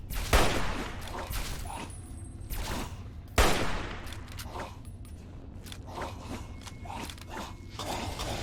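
Gunfire erupts in the video game Fallout 3: sharp shots and bursts of fire, two louder cracks standing out, mixed with mechanical clatter and rattling throughout.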